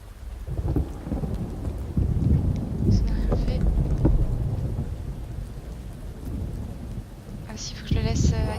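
Thunder rolls and rain pours in the video game Oknytt, with low rumbling swells through the storm and a louder crack near the end, while a voice talks over it.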